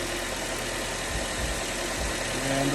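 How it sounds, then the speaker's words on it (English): Nissan Juke 1.6-litre turbo engine idling just after a new belt was fitted, a steady close rumble with a faint rhythmic knock and mechanical hum throughout. "I got a new belt installed, and the vehicle is running"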